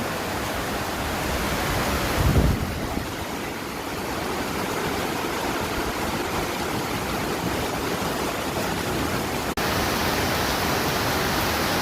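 Typhoon rain pours down steadily with strong wind, a dense, loud, unbroken roar close around, with a brief thump midway.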